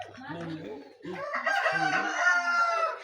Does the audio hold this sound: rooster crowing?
yes